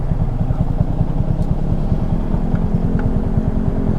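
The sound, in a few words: motorcycle passing by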